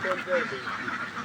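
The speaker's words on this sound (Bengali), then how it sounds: "হাঁসের পাল, এখানে প্রায় 1200-র উপরে হাঁস রয়েছে।" A large flock of more than 1200 ducks quacks in a dense, overlapping chorus, with steady calls that come from a moderate distance.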